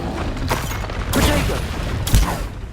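Combat spells in Hogwarts Legacy crackle and burst in a dense, continuous barrage, with explosive impacts and whooshing casts overlapping near and loud, a sharp blast at the very end.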